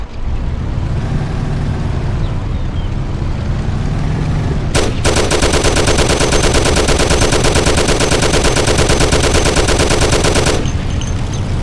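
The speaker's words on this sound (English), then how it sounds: "Take my Thompson. You and Sam shoot them." A Thompson submachine gun fires in Mafia: The City of Lost Heaven during a car chase, one long loud continuous automatic burst of about six seconds over a steady engine rumble, with no talk.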